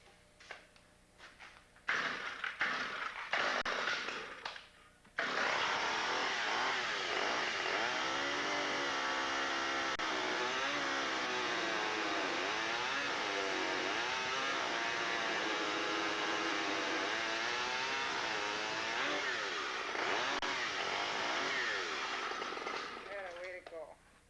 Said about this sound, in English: we just use our borrowed Handy dandy dull chainsaw.